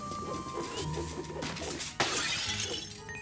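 A piggy bank shatters in Luigi's Mansion 3, a sudden crash of breaking ceramic over game music and ambient hum, followed by a scatter of tinkling bits.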